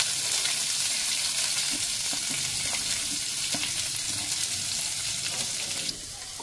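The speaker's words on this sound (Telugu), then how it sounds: "కొంచెం ఫ్రై అయ్యాక ఆనియన్ అయితే వేసేసుకుందాం. ఆనియన్ కరివేపాకు అయితే వేసేసుకున్నాను." Onions and curry leaves sizzle steadily in hot oil in a pan, a close, continuous frying hiss with occasional stirring, no talking.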